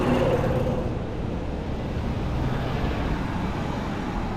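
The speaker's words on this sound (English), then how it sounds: "So that's all the cars going by perpendicular up ahead." Cars pass along Kings Highway just ahead, heard from a bike stopped near a street festival as a steady, fairly loud roadway rumble and hiss with no single vehicle standing out.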